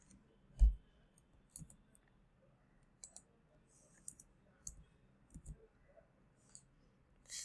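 Computer mouse clicks are heard while someone works through an Excel wizard: sparse, quiet single clicks spaced irregularly, close up and alone with no talk.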